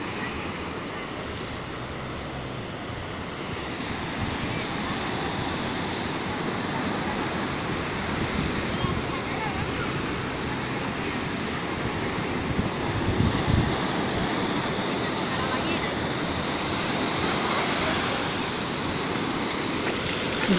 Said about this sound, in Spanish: El mar está algo picado.